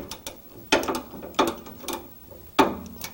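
Ratchet clicks from breaking loose the valve cover nuts on a Porsche 911 engine, heard as a few separate short bursts of close clicking with pauses between them, no talk.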